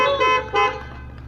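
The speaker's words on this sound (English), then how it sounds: "We have a honk of a horn, please." Two short car horn honks in quick succession at an evening candidates' forum, loud and close, followed by a faint third toot over a low engine hum.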